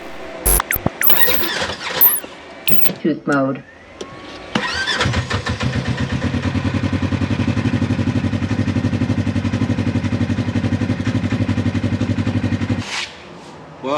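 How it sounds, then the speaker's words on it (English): A repaired, boosted Ford RS1 engine cranks with a whining starter after a few knocks and short bursts of activity, then catches and runs loudly at a steady, throbbing idle for several seconds before cutting off abruptly. A brief voice is heard early on. "I just put the engine in, called it a day. Let's see if she starts."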